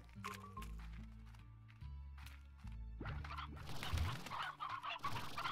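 Chickens in the video game Slime Rancher cluck and squawk over a steady synthetic game soundtrack, with brief cackles layered on top in the second half, moderately loud throughout.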